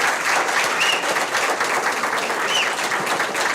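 Large crowd at a candidates' forum applauding steadily, loud dense clapping throughout with a light murmur of voices mixed in.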